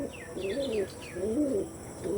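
Pigeons kept for sale coo in rolling, throaty phrases nearby, two clear bouts with fainter chirps in between.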